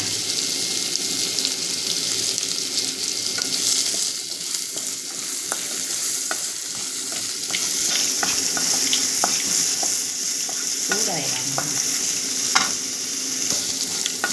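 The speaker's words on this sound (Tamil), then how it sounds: "இப்போ வெங்காயம் வதங்கிடுச்சுங்க" Onions sautéing with a little salt in a pan, giving a steady close sizzle throughout with frequent scraping and stirring clicks, and no voices.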